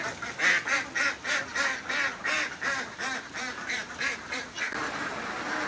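Ducks at a duck layer farm, including a green-headed drake, quack in a dense, rhythmic chorus of repeated calls, close and loud, with the flock overlapping throughout.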